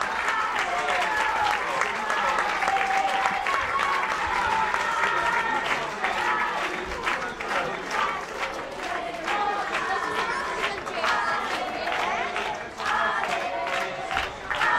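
Spectators at the end of an under-12 youth football cup final between Atalanta and Pro Sesto burst into sustained applause and cheering, a dense wash of clapping with shouts and whistles rising and falling, fairly loud and close throughout.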